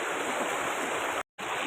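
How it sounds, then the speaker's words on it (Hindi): Spring water flowing in a mountain stream in a Pakistani valley: a steady, full rushing wash of water, close and continuous, briefly cutting out to silence before resuming. "ये चश्मे का पानी, ये काफ़ी सारे चश्मे मिलकर एक दरिया की शक्ल में बन जाता है"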